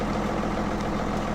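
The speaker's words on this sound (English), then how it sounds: "the tractor is beginning to struggle with that weight" Tractor engine in Farming Simulator 2017 drones steadily under a heavy load, a continuous low rumble with no breaks.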